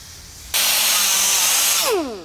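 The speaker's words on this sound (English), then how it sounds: "Now I'm using 50 grit sandpaper to rough this up." Coarse 50 grit sandpaper roughing up bare metal on a Ford F100 truck body, a loud, steady close-up abrasive rasp lasting about a second and a half, then cutting off.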